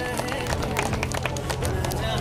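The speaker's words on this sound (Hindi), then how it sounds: "जोरदार तालियां हो जाए हरीश जी के लिए।" A crowd claps enthusiastically for Harish Mangilal Mali, honoured for UPSC 2022 rank 674. The clapping is dense, continuous and close, with voices mixed in.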